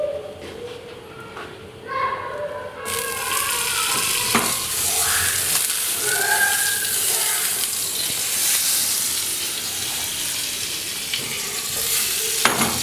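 Margarine or butter sizzling in a frying pan where cod and prawns are being seared, a steady loud hiss that swells after a few seconds and holds, with faint clinks and a distant dog barking.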